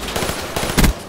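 Rapid burst fire from an M16 in a first-person shooter video game, loud close clattering shots in quick succession ending in a heavier impact.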